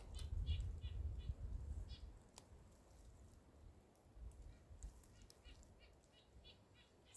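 Partridge flushing in Maine woods, a burst of loud wingbeats up close at the start, then softer fluttering and scattered chirps against quiet forest background.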